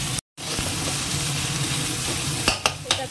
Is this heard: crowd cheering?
no